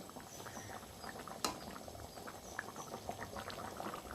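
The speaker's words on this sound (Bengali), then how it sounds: "চিনিটা দিয়েছি তো একটু ফুটবে" Egg curry with sugar added bubbles and simmers in a pot on a gas stove, a steady close boiling patter with one brief louder clack partway through.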